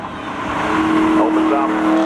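Spectator drag race cars launch at a Labor Day thrill show, their engines roaring and rising in pitch over about two seconds, loud and close, with a commentator talking over them.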